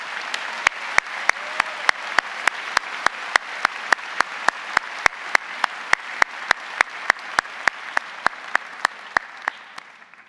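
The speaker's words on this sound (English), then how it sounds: "So another round of applause for Dr." Audience applause at a 2023 Michigan Public Health graduation ceremony, a steady dense wash of clapping from a large crowd with sharp individual claps standing out, sustained for about ten seconds before tapering at the end.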